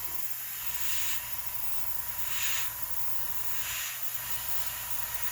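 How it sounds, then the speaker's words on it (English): An airbrush blows plain air to dry paint on a miniature painted with a carbon fiber look. A steady close hiss runs throughout, swelling briefly three times. "And then let off the paint and just blow air to dry it off."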